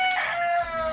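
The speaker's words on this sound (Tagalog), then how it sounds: "May manok." A rooster crows once, a drawn-out harmonic call lasting about a second, fairly close and clear.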